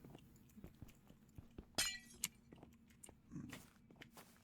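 A glass block breaking in Minecraft, a short bright shattering crunch in the middle of a quiet stretch, with faint clicks and game noises around it.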